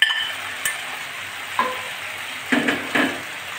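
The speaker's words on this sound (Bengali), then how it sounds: "এবার ভেজে রাখা আলুগুলো এবার ভেন্ডির ভিতর দিয়ে দিচ্ছি।" Fried potatoes tipped and stirred into okra frying in a pan, giving a few scraping stir strokes over a soft sizzle, close and fairly loud with no talk.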